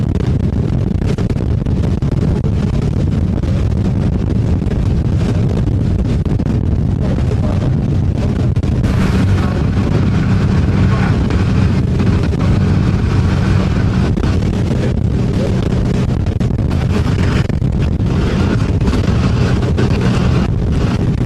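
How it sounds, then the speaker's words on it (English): A strong southeast wind roars continuously during an A Class boat race, a loud, low, buffeting rush that never lets up. "The wind is hitting you hard from southeast now."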